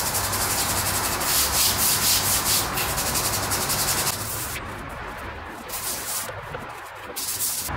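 Nylon brush scrubbing rust stains off tiles, a close, steady, rhythmic rasping that runs throughout and eases somewhat in volume midway, with no talking.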